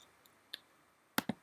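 Two quick, crisp mouse clicks close together, preceded by a couple of fainter ticks, in an otherwise quiet room while confirming a file selection on a computer.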